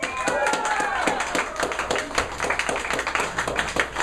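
A small coffee-shop open-mic crowd claps steadily for a performer walking up to the stage. The sharp, close claps come in a dense patter, with whoops and voices mixed in over four seconds.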